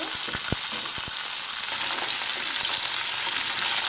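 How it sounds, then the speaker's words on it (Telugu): Drumstick pieces frying in hot oil in a pan, a steady loud sizzle throughout with a few brief knocks near the start, no voices. "ముందు ములక్కాడ వేయించుకోవాలి"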